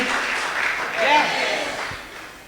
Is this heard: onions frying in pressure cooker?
no